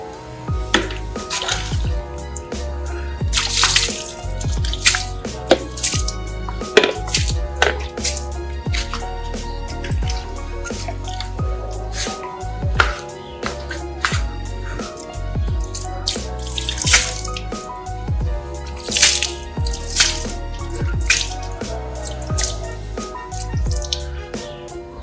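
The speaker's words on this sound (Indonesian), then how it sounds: "Sekarang kita bilas lagi guys. Kita bilas air bersih." Clean water is poured over a rusty motorcycle exhaust header, splashing and dripping in a busy, steady patter close by, with no talking.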